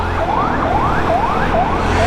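A fire engine siren passes with fast repeating upward sweeps, loud and close over road noise, with no voices.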